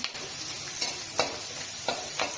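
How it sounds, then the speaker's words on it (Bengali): Fish fries in a pan in a village kitchen, a close, even sizzle with a few soft spatter pops and no voices. "এরকম মাছটা ভাজা হয়েছে, এই যে অর্ধেকটা ভাজা হয়েছে, অর্ধেকটা এই যে ভাজা হচ্ছে"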